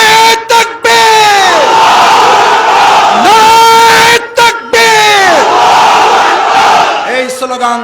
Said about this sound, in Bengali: আমাদের স্লোগান শুনে রাখো এই স্লোগান